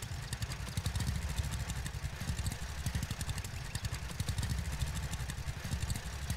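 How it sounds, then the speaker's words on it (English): A gas-burning tractor engine in the farming video game Farmers Dynasty chugs steadily with a rapid, even rhythmic putter, fairly quiet and continuous, with no talking. "I'm just honestly tired of hearing this gas burning tractor over and over."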